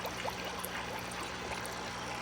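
Steady water trickles and flows into a blackworm culture container, making a constant bubbling, gurgling stream at a moderate level with no talk.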